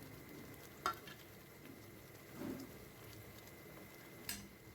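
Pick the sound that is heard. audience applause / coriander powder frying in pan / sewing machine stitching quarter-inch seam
coriander powder frying in pan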